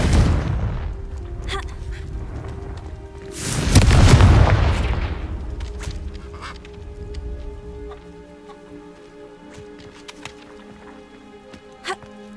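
A Confringo blasting spell in the video game Hogwarts Legacy, heard as one loud, booming explosion midway that decays into scattered sharp pops and crackles, with game sounds around it.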